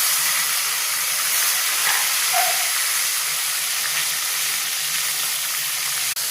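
Green chillies and tomato sizzling in hot oil for a tomato potato masala, a loud, continuous, hissing crackle that stays even throughout, with a brief clatter near the end.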